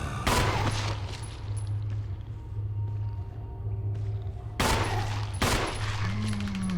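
Gunfire aimed for headshots in Resident Evil HD Remastered, several sharp, loud shots spaced irregularly over a low droning in-game background hum, with a faint rising tone at the end.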